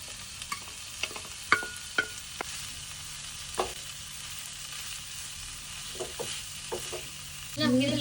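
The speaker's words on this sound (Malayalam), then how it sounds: "ഇതിലേക്ക് നമ്മൾ ഫ്രൈ ചെയ്ത് വെച്ച പ്രോൺസ് ഇട്ട് കൊടുക്കാം." Fried prawns and tomato sizzle quietly in a pan for a prawn samosa filling, a steady low crackle broken by several sharp clicks and taps of a utensil, with a louder burst of frying near the end.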